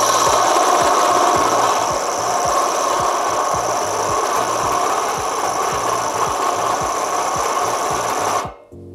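A Makita JR002G cordless reciprocating saw cuts stainless steel at low speed, giving a loud, steady buzzing rasp with a fast regular stroke pulse throughout before it cuts off abruptly near the end, with no one talking.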